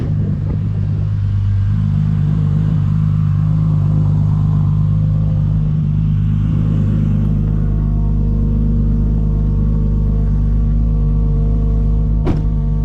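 A Toyota Supra with a full exhaust runs steadily, a deep low engine rumble and drone that holds close and loud throughout, with a brief sharp click near the end.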